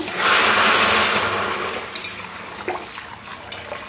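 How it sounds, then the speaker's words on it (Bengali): Chicken stock poured over lightly fried vegetables in a pan, a loud close rush of liquid that gradually eases into quieter bubbling with a few small clicks. "সবজিটা হালকা করে ভাজার পর এবার দিয়ে দেবো চিকেনের স্টকটা।"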